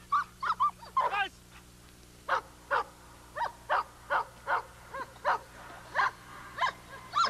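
A Belgian Malinois named Turbo, working with a trainer, barks in a steady run of sharp, evenly spaced barks. About fifteen of them come from moderately close, with only faint background noise between.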